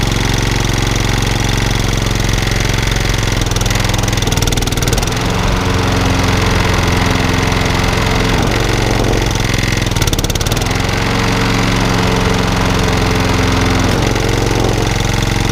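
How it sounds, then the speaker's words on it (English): A Honda HRX 476 lawnmower runs loud and steady up close with its rotor clutch engaged, a continuous droning engine hum with slight surges in load. "Yeah, that's the rotor clutch working."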